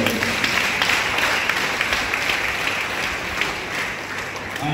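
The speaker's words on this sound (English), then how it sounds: "please give Father a big round of applause" Steady audience applause for a priest at a church gathering, many hands clapping together in a dense, even wash of sound at moderate distance, with nothing else heard over it.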